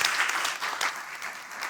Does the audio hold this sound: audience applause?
yes